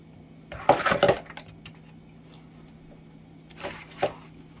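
An egg cracked on a bowl and dropped into pancake batter: a quick cluster of sharp taps and cracks, then a lighter knock a few seconds later, close and otherwise quiet.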